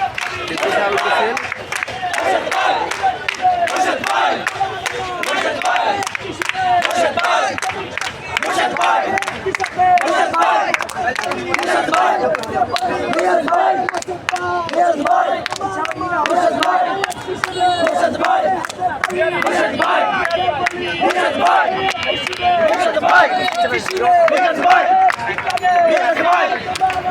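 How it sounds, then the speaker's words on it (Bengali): A large protest march crowd chants in rhythmic unison, loud and continuous, with massed voices, shouts and crowd noise filling the space without a break. "আমাদের সদস্য সচিবের নেতৃত্বে বিশাল মিছিল।"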